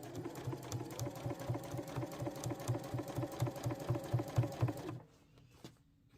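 A sewing machine stitching a beach bag runs steadily with a rapid rhythmic whirring and thumping, close and moderately loud, then stops abruptly near the end, leaving near silence.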